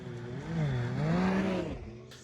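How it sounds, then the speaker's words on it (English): A Ski-Doo Mach Z snowmobile engine revs under throttle, with a loud, close, rising and falling buzzing drone that swells for a second or two and then fades off. "Once you get it up to speed, mid-range, 70 miles an hour, and you get on that throttle, it'll pull."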